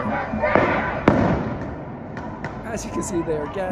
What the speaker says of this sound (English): They are sending them tear gas, flashbangs, whatever.